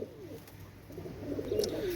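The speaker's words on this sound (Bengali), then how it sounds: "আপনারা লক্ষ্য করেন, অনেক সুন্দর কবুতর।" A pair of Pakistani Royal Teddy Master pigeons give soft, low cooing calls, faint and close, in a quiet setting.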